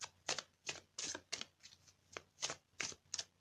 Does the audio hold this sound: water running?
no